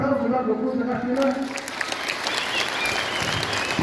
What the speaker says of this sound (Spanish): Bueno, aplauso